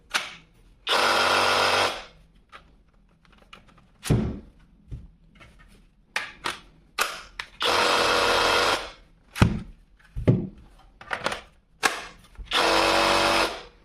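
A LEADER Ultra BL20-22M cordless reciprocating saw runs in repeated bursts. The loud buzzing whir lasts about a second or so each time, broken by short starts, clicks and handling knocks in the gaps.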